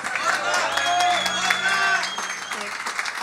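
An audience at the Salamanca jazz festival applauds a band, dense clapping close and steady with some cheering mixed in.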